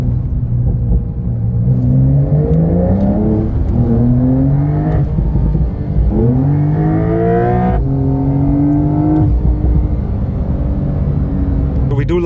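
Supercar accelerating hard on a race track, engine pitch climbing in repeated sweeps through gear changes, loud and continuous from start to finish, with voices talking over it.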